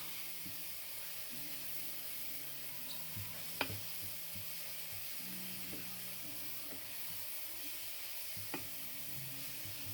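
Leeks sizzling steadily in a pan for risotto, a continuous soft frying hiss with occasional faint clicks of stirring and muffled background sounds.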